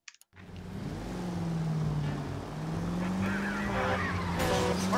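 Car engine droning and revving as a vehicle drives through city streets in the video game L.A. Noire, a steady rising hum starting abruptly after a brief blip, with a horn-like tone near the end.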